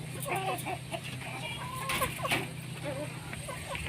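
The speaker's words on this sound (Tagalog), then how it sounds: "Dito naman tayo sa area ng Black Astrolop. Oras na ng patuka sa kanila ngayong hapon." Black Australorp chickens clucking at afternoon feeding on a free-range farm, scattered soft clucks and short calls from several birds nearby over a low steady hum, with a faint human voice in the background.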